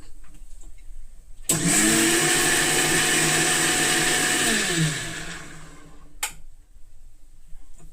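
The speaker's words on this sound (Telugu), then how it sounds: "ఇప్పుడు ఇది మూత పెట్టేసి చక్కగా" A mixer grinder blending spiced buttermilk whirs loudly for several seconds after a quiet start, its motor pitch shifting as it blends, then winds down to near silence.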